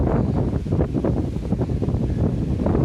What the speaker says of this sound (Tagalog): Para from dun sa tent namin, medyo malakas yung hangin.